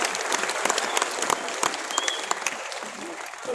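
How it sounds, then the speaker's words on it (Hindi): An audience at a motivational goal-setting seminar breaks into loud, sustained applause, dense overlapping claps filling the hall. "एक बार जोरदार तालियां, जोरदार तालियां।"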